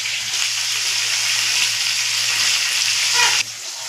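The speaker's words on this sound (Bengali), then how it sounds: "মাছের মাথাগুলো ভাজা হয়ে গেছে" Fish heads fry in hot oil with a dense, steady sizzle and crackle close up, a low hum underneath, and the sizzle drops off abruptly near the end.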